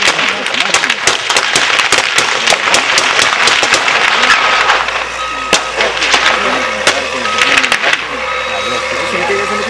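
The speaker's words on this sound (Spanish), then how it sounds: "repelieron a balazos el ataque de la policía" Rapid, sharp cracks of gunfire burst repeatedly during a shootout with police in Pucalá, over a noisy crowd scene, loud and close, with engine rumble joining partway through.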